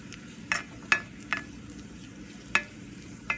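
Raisins frying in hot ghee in a pan: a low, quiet sizzle broken by about half a dozen sharp spoon clinks and scrapes at uneven intervals.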